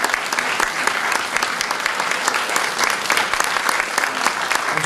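An audience in a hall applauds set designer Marco Dentici, a dense, steady clapping that runs loud and close for the whole stretch, with no voices over it.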